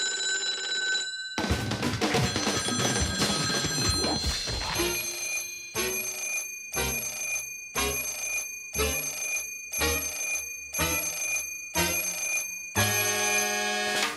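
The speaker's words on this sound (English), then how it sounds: "we could always count on that phone to ring" A telephone rings in the Sam & Max video game. A busy stretch of sound comes first, then a series of evenly spaced, bright electric bell rings repeats about ten times.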